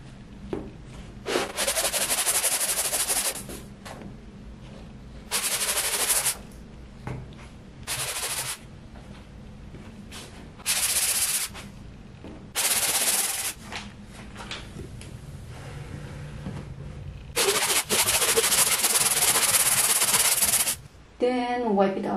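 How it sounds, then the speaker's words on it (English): Primer on a door is sanded by hand in repeated bursts of scratchy rubbing, close and fairly loud, separated by short quiet gaps. "Before the final coating, I need to sand those primer area."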